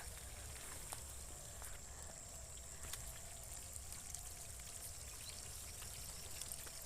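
Water pouring and trickling steadily into a muddy irrigated farm field outdoors, a continuous close flowing wash with no voices.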